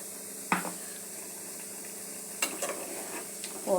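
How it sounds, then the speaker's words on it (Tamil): Coconut paste goes into a simmering curry of lablab beans and brinjal, with a sharp metallic clank, a quiet steady sizzle, then a few more scraping stirs and a final clatter of the pan. "இப்போ வெந்தோடனே இந்த தேங்காய் பேஸ்ட்டை ஊற்றிட வேண்டியதுதான்."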